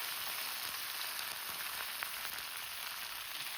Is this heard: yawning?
no